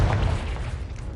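A Confringo blasting spell goes off in the Hogwarts Legacy video game, a deep, booming explosive burst with heavy low rumble that fades over about a second.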